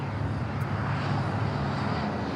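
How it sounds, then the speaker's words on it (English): An airliner bound for Shanghai rolls down runway 25 right at LAX for takeoff, a steady broad jet roar heard from a distance, continuous and even throughout. "Flight to Shanghai, now rolling down to 25 right."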